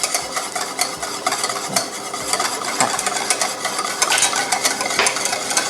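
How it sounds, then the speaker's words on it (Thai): Hand whisk beating a salad dressing of olive oil and toasted white sesame in a bowl, a steady brisk scraping and swishing with regular rhythmic strokes, close and continuous. "ถ้าคุณผู้ชมไม่มีตะก้อมือที่บ้านใช้เป็นซ่อมก็ได้นะคะ แต่อาจจะต้องออกแรงเยอะนิดนึง"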